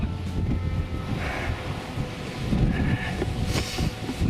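Winter wind on Oke Tor on Dartmoor, roaring and buffeting the microphone in strong gusts, loud and close with no voices.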